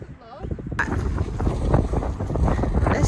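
Gusty wind buffeting the microphone, a loud rumbling roar that starts abruptly and stays steady, with talk mixed underneath.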